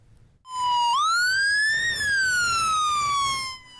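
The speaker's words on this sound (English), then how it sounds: "Early morning sirens." A single emergency siren wails loudly and close by in the early morning before a Martin Luther King Day parade, rising and falling in pitch with no voices over it.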